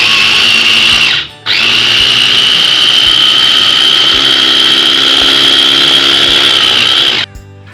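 An electric chopper whirs loudly and steadily as it chops spinach for a potato and spinach curry, cutting off briefly near the start and again at the end.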